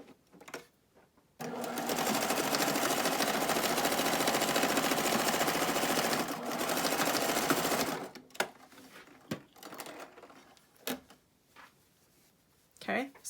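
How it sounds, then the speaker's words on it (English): Sewing machine running a continuous curved seam through fabric for a wasp nest decoy, a steady close whirring for about six seconds with a brief dip, then stopping, followed by handling noises and faint talk. "I'm going to make another little arc of sewing to meet where I just finished sewing"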